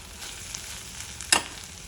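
Cluster beans fry quietly in a pan with a soft, steady sizzle, broken once by a brief stirring scrape near the end.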